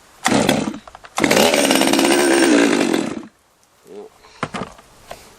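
A Stihl 194T or Holzfforma G111 top-handle chainsaw starts with a short buzz, then revs loudly and close for about two seconds before cutting out, followed by a few faint clicks and rattles.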